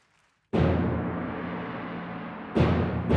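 Audience applause for an orchestra's musicians at a symphony concert, a loud dense wash of clapping that starts abruptly, holds steady and then swells again near the end, with no voices over it.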